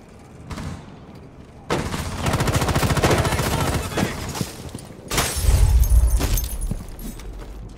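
Rapid automatic gunfire from Rainbow Six Siege crackles in a sustained burst, followed by another heavy volley with a booming low impact, loud and close.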